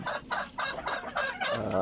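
Backyard chickens cluck in a steady, close run of short repeated calls, with a rooster-like crow mixed in, at feeding time.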